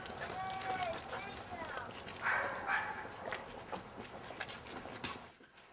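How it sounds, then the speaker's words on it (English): Small terrier dogs bark and yip in short, excited bursts close by, mixed with scuffling movement and voices talking throughout. "There's nice little terrier doggies."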